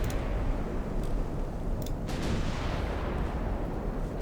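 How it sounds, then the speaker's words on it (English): Warship guns firing in a naval video game set in the 1900s, heavy continuous rumbling barrage with dense booms, loud and sustained, with a few sharper cracks on top. "Try and get all of her guns firing."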